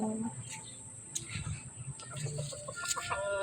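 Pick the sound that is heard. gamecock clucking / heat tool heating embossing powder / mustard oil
gamecock clucking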